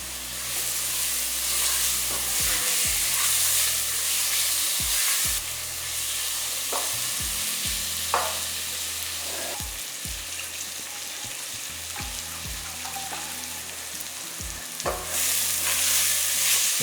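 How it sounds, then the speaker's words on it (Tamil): Tomato chunks being sautéed in a pan for a spicy crab soup, a steady loud sizzle with repeated scraping stirs throughout, no talking. "ஒரு தக்காளியை கொஞ்சம் பெரிய பெரிய பீஸாகவே கட் பண்ணி கொடுக்கலாம் இதோட பச்சை மனம் போக நல்லா வதக்கிக்கலாம்"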